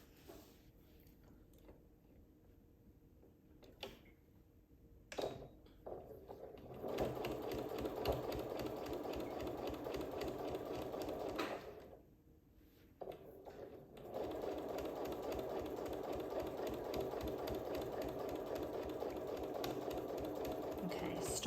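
A sewing machine stitches a quarter-inch seam attaching quilt binding, its steady motor whir running in long bursts with brief pauses between, close and moderately loud.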